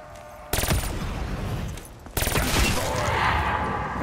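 Rapid automatic gunfire in Call of Duty Black Ops 3 zombies mode, two sustained loud bursts of fire starting abruptly with game ambience between, no talking.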